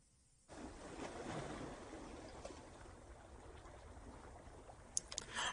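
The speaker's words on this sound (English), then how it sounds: "So we need ocean waves." Ocean waves sound effect under consideration for an animated pirate scene: a steady, broad wash of surf and water noise rolls continuously after a brief quiet start, with a few small splashy clicks near the end and no talking.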